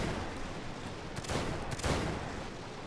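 Gunfire and cannon fire from the Victoria Total War strategy game, an American campaign battle: a steady crackle of distant musket volleys with two louder swells of firing, continuous and without talk.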